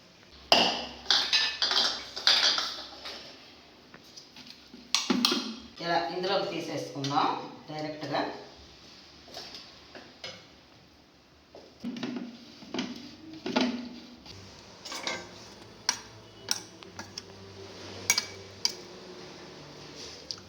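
Wood apple pulp being stirred into a chutney in a pan, with metallic scrapes, clinks and knocks of a utensil against the pan coming in uneven bursts while a person talks.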